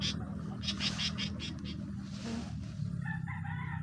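An agitated bird near its nest gives loud repeated squawking calls in a short outdoor burst, with a faint rustle of background noise.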